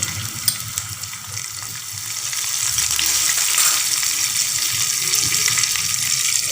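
Cumin seeds and chopped green chillies fry in a hot pan, a continuous hissing sizzle that swells louder partway through and stays steady to the end, with no voices.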